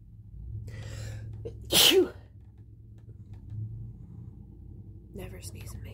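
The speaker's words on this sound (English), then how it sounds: "never sneeze in makeup." A single sharp sneeze bursts out close by, loud and brief, over a low steady rumble with faint background murmur.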